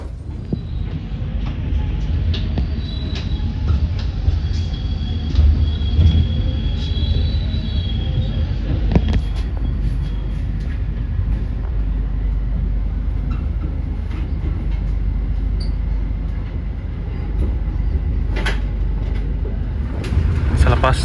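KA Taksaka executive train pulling out of Cirebon station, heard from inside as a steady loud rumble of wheels and carriage noise with brief squeals and clacks, with a voice speaking over it.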